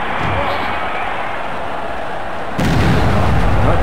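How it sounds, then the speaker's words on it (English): Explosions go off in a video game, a continuous rumbling barrage with a sharp jump to a louder, heavier blast partway through. "Oh, more explosions going off."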